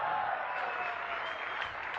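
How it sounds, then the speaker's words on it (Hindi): Audience at a business meeting clapping and cheering, a dense steady wash of applause and crowd noise that holds at a constant level throughout, with no clear individual voices standing out. "ये चिल्ला रहे हैं, तालियां बजा रहे हैं, नाच रहे हैं"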